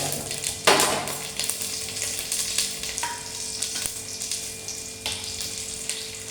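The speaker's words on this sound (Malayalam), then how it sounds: "അപ്പം അതിനകത്തോട്ട് നമ്മുടെ ഈ കിസ്മിസ് ഒന്നിട്ട് വറുത്ത് പോരാം" Raisins frying in melted ghee in a pan: a fairly quiet, steady sizzle with fine crackling and a sharp burst of spitting as they drop in, plus a few light stirring scrapes.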